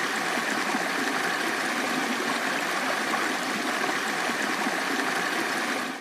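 The Hổ Khê stream at Yên Tử rushes and gurgles in a steady, close, unbroken flow of water, with no voices over it.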